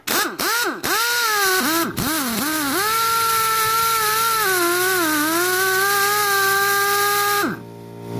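A Chicago Pneumatic CP734 air impact wrench, freshly oiled after earlier clicking, gives a few short bursts and then runs in one loud, continuous whining spin for about five seconds, with slight pitch wobbles, before stopping.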